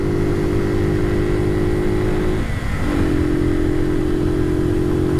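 A motorcycle engine drones loud and steady under acceleration, drops briefly halfway through as the rider shifts gears, then climbs again, recorded through a helmet microphone with constant wind rush.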